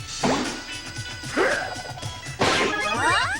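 A Mario Power Tennis power shot lands as three loud cartoonish smashes, each a sharp crash followed by a sweeping whoosh, with a bouncy game soundtrack playing underneath.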